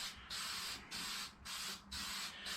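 Spray paint hisses onto an RC car body, a Traxxas Drag Slash shell being given a second coat, in four or five short quiet bursts with brief gaps between them.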